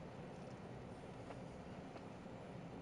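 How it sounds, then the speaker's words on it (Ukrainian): A train rumbles on the outskirts of a town in steady, continuous noise, with a couple of faint clicks, heard at a distance and without voices. "Поїзди на окраїні."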